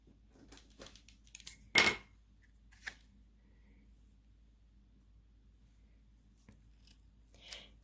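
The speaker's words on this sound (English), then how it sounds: "and then take my scissors" A single sharp snip of scissors cutting cardstock for a card, brief and close, with a few faint rustles and small handling noises around it in an otherwise quiet room.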